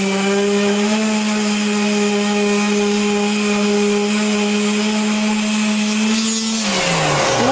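BODY 202 body filler on a zinc-coated panel is coarse machine-sanded, giving a loud, continuous whirring hum with a steady abrasive hiss that winds down at the end.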